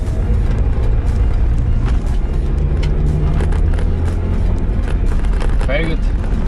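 A Daihatsu All New Terios SUV is driven left to right with traction control off, its steady engine and road rumble running under someone talking throughout.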